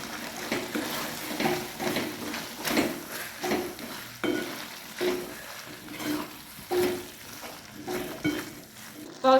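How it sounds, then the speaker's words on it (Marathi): A spoon stirs carrot bhaji in thick gravy with chopped coriander in a pan, scraping and clinking in repeated strokes over a light sizzle, close and clear with no talking. "मिक्स करून घेऊया."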